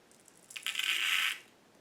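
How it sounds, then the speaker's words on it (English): Lead shot for loading a flintlock shotgun pours into a plastic bag, a quick, faint rattling patter of small pellets lasting under a second. "And our shot, going into a plastic bag to get it."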